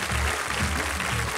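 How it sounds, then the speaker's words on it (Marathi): Audience applause at a Marathi kirtan contest show, a brief burst of steady, loud clapping filling the whole moment. "त्यांच्यासाठी जोरदार टाळ्या झाल्या पाहिजेत."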